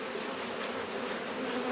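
Honeybees hum at an open, crowded hive close at hand, a continuous even drone with no pauses and no talking.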